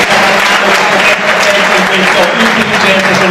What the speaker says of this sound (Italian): Dato un bel applauso a questi due protagonisti